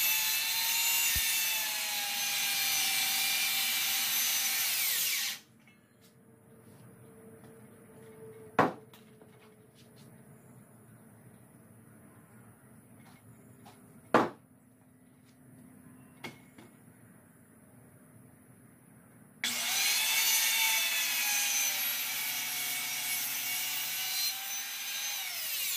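A saw cuts through timber while framing members for a house, a long steady rasping drone at the start and again at the end, with a quieter gap between broken by a few sharp knocks and clicks.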